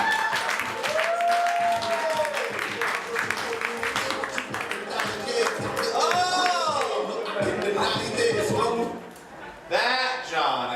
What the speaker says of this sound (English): please give a big round of applause to John Adams